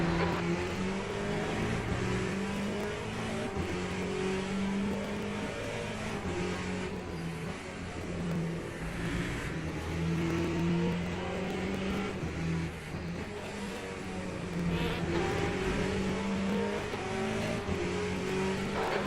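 Race car engine in Le Mans Ultimate played in VR, a steady loud drone that shifts pitch as the car accelerates and lifts, running continuously with no pauses.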